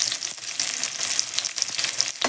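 Two large onions frying in hot oil in a pan, a continuous bright hiss of sizzling with soft stirring scrapes, close and fairly loud, no voices.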